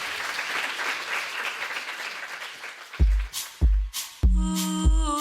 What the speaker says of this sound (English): You can applaud so we can hear you.